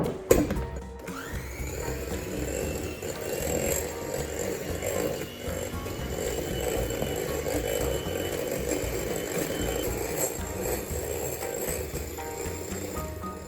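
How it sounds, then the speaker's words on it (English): Egg whites and sugar are whisked in a bowl for chocolate mousse, a continuous close rhythmic whirring and clattering of the whisk against the bowl that holds steady throughout after a brief knock at the start. "I'm going to add 3 teaspoons of sugar to my egg whites. 1, 2, 3, and I'm going to whisk them up"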